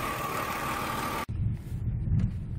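Hyundai Equus 380 sedan engine on a test drive in Byeollae: a steady hum with a high tone that cuts off abruptly midway, followed by a lower, rumbling engine drone with road noise.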